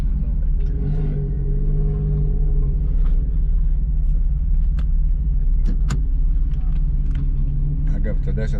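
A car drives on a race track during a driving lesson, its engine droning in a steady low rumble throughout, with people talking over it and a few brief clicks and knocks.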